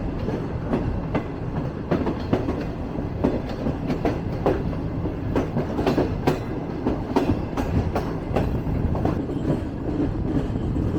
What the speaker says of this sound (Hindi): हमारी ट्रेन फाइनली पहुंच रही है कोठरी। सो यहाँ पर खैर स्टॉप तो नहीं है, लेकिन बहुत ही स्लो चल रही है